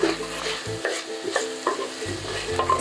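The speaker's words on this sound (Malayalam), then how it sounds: "സവാളയും തക്കാളിയും നല്ലോണം വഴറ്റിയിട്ടുണ്ട്." Onions and tomatoes sautéing in a pan for chicken curry, a steady sizzle with repeated scraping and stirring strokes of a spoon, close and moderately loud.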